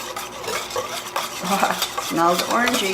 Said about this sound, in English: we're just going to whisk it until it's smooth